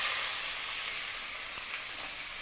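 Beef strips dropped into a hot oiled pan give a steady, close sizzle with a bright airy hiss that holds evenly and fades slightly, with no talking.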